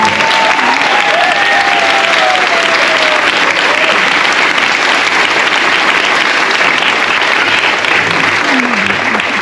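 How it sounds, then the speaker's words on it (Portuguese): A large audience applauds the president at a Brazilian Navy band ceremony for Navy Day in Natal, RN, giving a dense, steady ovation that fills the whole stretch at close range. "pedir mais uma salva de palmas para o nosso presidente"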